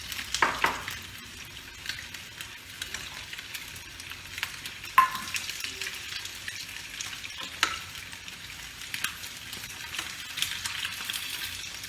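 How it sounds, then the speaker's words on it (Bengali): Katla fish frying in oil in a pan, a soft steady sizzle with occasional sharp clicks and scrapes of stirring, fairly quiet and close, with no talking. "আমার মাছ ভাজা হয়ে গেছে।"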